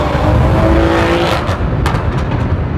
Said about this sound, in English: Pop the M340i into sports mode and that plushy ride and mellow engine note gets thrown out of the window